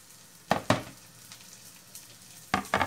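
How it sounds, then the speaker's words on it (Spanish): Garlic and onion tipped into a hot pan, producing two quick bursts of sizzle, a quieter stretch of gentle frying, then two more sharp sizzling bursts. "Vamos a vaciar ahora el ajo"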